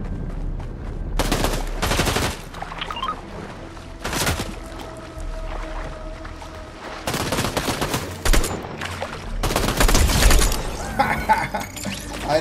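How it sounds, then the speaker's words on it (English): Bursts of gunfire from the video game Fortnite, several loud volleys of rapid shots separated by short pauses over a low background hum. "Someone shooting."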